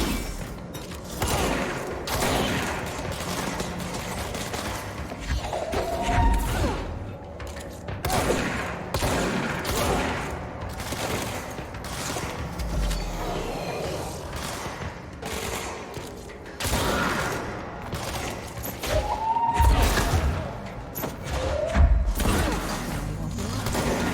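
Gunfire in the video game Control, dense repeated bursts and heavy thuds filling the whole stretch, loud and close, with brief voices now and then.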